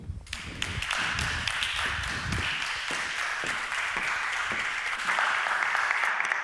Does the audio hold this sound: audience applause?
yes